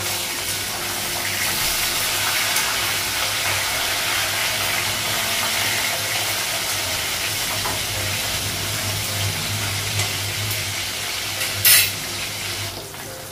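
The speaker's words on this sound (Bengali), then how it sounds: "মাছগুলো ভাজা হয়ে গেছে।" Fish seasoned with turmeric and salt frying in hot oil in a wok, a loud steady hiss and sizzle close by, unbroken for the whole stretch, with a brief metallic clink near the end and no talking.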